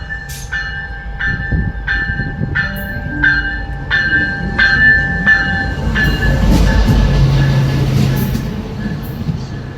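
A GO train passes close by on its way toward Toronto, Canada, with loud steady rumbling and repeated clattering of wheels over rail joints, building to a heavy roar as the cars go by.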